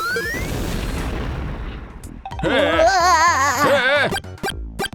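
A creeper blowing up in a Minecraft-style video game, a broad booming blast that rumbles and fades over a couple of seconds, followed by cartoonish voices giggling and singing.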